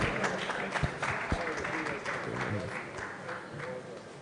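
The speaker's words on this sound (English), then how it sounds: "let's give LRS a round of applause, please" A crowd at the Nigeria Employers Summit applauds in a fairly quiet, uneven round of clapping, with a few sharper individual claps and some murmured talk mixed into the background.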